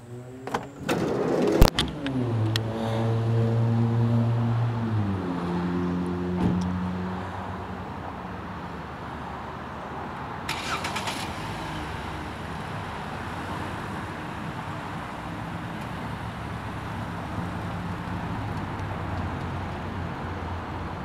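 A white 2012 Ford Transit cargo van with a new battery starts with a short crank burst, then idles and drives off, its engine note rising in steady harmonic sweeps before settling into a constant low road drone.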